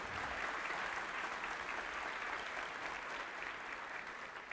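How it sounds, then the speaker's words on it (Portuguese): A church congregation claps in a steady, dense wash of applause that holds for several seconds at a moderate distance, with no voices standing out above it. "Ué, agora diminuiu o aplauso?"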